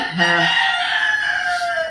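A single rooster crows loudly and close, one long drawn-out call lasting nearly two seconds.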